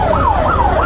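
An ambulance siren wails loud and steady, with its pitch sweeping up and down continuously against rumbling road traffic, with no talking.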